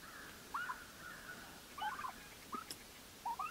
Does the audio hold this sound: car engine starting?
no